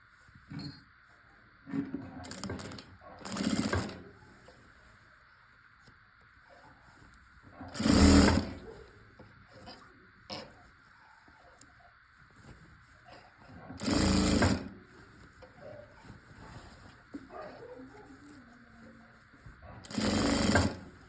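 A sewing machine stitches a sleeve onto a suit in short separate bursts. Four or five brief, fairly loud runs of whirring stitching are spread across quiet stretches with faint handling noise in between.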